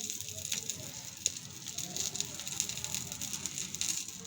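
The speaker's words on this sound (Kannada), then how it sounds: "ಇಲ್ಲಿ ಕರ್ಬೇವಿನ ಸೊಪ್ಪನ್ನ ಹುರ್ಕೊಳ್ತಾ ಇದ್ದೀನಿ" Curry leaves roast in a pan with a soft, steady crackle and patter of hot oil, faint and close, with a few louder pops.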